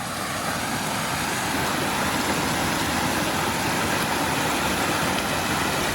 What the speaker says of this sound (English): This is what 3 pumps looks like.